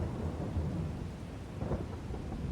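Steady rain and rumbling thunder from a Farming Simulator 22 storm, a continuous loud wash with a low roll swelling midway, no voices.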